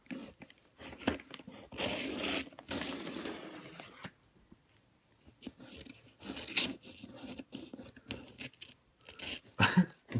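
Opening knife slicing through packing tape on a cardboard box during an unboxing, heard as bursts of scraping, tearing cuts with short pauses and sharp clicks near the end, close and fairly quiet.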